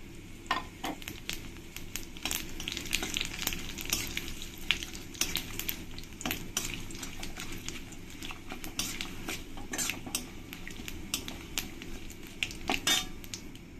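Dry red chillies, bay leaf and cumin fry in hot oil, crackling and spitting in quick bursts, with frequent metallic clinks of a utensil on the pan throughout.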